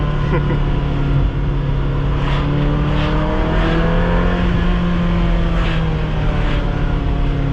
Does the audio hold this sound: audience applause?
no